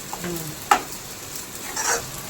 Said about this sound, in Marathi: व्यवस्थित मिक्स करून घ्यायचं ना